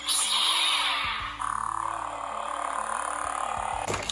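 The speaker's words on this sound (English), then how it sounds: "the Anakin saber is definitely louder" Loud electronic humming buzz from a Disney Star Wars toy lightsaber, shifting pitch as it's swung, with a steady droning tone and a sharp burst near the end.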